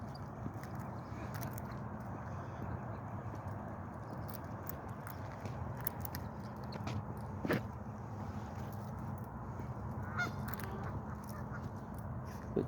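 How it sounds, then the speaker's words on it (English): Faint, distant Canada geese honk a few times, scattered across a quiet outdoor background in an arboretum. "A couple of Canadian geese over there and some ducks."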